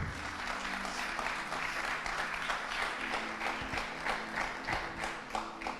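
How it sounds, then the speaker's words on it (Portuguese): A church congregation applauds steadily throughout, a dense patter of many hands clapping at moderate distance, with a low hum underneath. "Você pode dar mais uma salva de palmas ao Senhor?"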